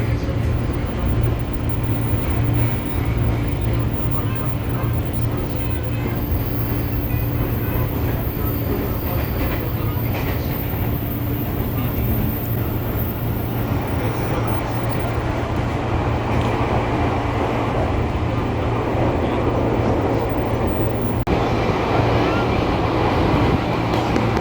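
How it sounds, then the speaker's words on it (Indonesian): Train departing Daru station toward Tenjo, heard from inside as a steady low rumble and rolling hum that carries on evenly throughout. "Semenit kemudian jam 8:35 kereta pun mulai diberangkatkan dari stasiun Daru menuju ke stasiun Tenjo"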